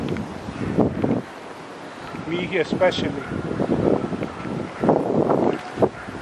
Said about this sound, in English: And windy today.